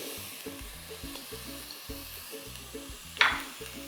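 Cabbage and capsicum sautéing over high heat for a veg momo filling, a steady sizzle with repeated stirring scrapes in a regular rhythm and one sharper clatter near the end, with no talk.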